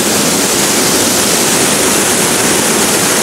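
Waterfall at Sekar Langit surrounded by bamboo, a loud, continuous rushing roar of falling water close by with no other sounds.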